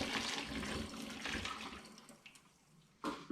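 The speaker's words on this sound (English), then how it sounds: "I'm just going to pour this also into the demijohn" Liquid of rum and apricot pours steadily into a glass demijohn during all-grain strong ale brewing, a close, continuous gurgling splash that thins out and ends with a few clunks.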